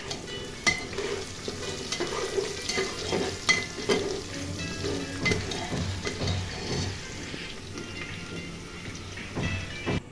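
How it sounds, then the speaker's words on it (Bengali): Beef being added to a pot for beef stew, a steady sizzle of frying with scraping stir strokes and soft clatter, moderately close, with no voices. "মাংস ঢেলে দিচ্ছি।"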